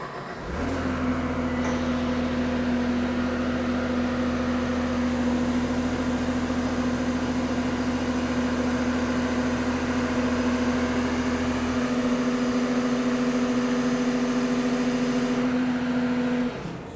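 A Hornet vehicle engine runs steadily after restarting, a constant droning hum with a strong tonal whine held for the full stretch, close and alone, dropping slightly in low rumble near the end.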